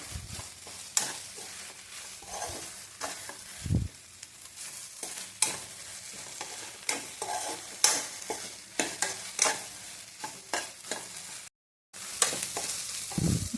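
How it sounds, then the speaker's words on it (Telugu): Okra fried in a pan for a Rayalaseema-style bendakaya pullagura, a spatula scraping and stirring in irregular strokes over a steady sizzle, close and fairly loud, with a brief silent gap near the end. "నేను బాగా వేయించుకుంటున్నాను చూడండి ఎలా వస్తుందో"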